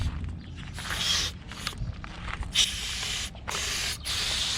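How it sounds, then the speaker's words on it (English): Cleaner sprays in several short hissing bursts into the jets of an outboard carburetor, close and loud, separated by brief pauses with low background noise. "If you see little jets inside, try to spray them directly."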